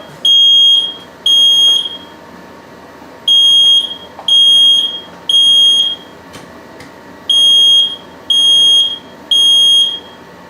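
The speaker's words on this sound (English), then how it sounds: "Smoke alarm off." During coffee roasting on a ROEST roaster, a smoke alarm shrieks in loud, piercing beeps, eight in all, coming in uneven clusters with short gaps between them.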